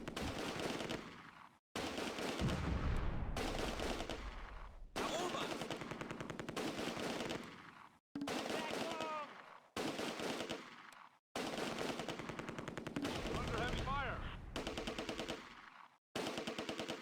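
Machine gun fire from the WWII strategy game Close Combat: A Bridge Too Far, Nijmegen bridge battle. Long loud rattling bursts repeat, separated by short silences, with other gunfire layered in.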